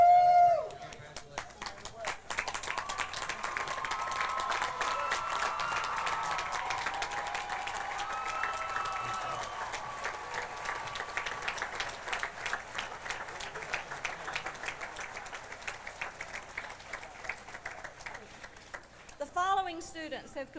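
Graduation audience applauding at a 2000 Elon College commencement, a steady wash of many hands clapping that runs for most of the stretch at moderate loudness in a large hall, with a few voices in the crowd mixed in.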